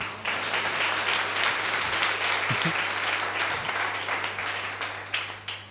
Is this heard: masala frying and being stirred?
no